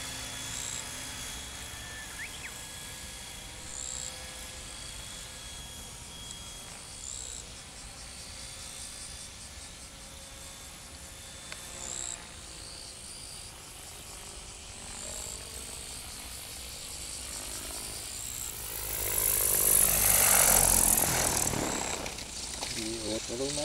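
Electric E-SKY E-SMART 550-size RC helicopter hovering outdoors, a steady high motor whine and rotor hum at moderate distance, swelling louder near the end, with people talking intermittently over it.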